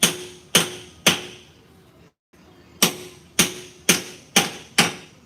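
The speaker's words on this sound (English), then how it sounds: "So now you tap it all the way down until it bottoms out." Sharp hammer taps drive a semi-truck wheel seal into place: eight loud, evenly spaced metallic strikes, each ringing and decaying, with a brief pause midway.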